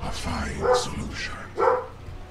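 A dog gives a few muffled barks and yips, each one brief and mid-loud, in a room where a Dota 2 game is being played.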